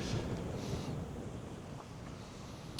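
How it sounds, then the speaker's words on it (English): Strong wind blows across open fields, a faint, steady rushing buffet on the microphone with a few gusty swells and no voices. "that's way too fucking windy."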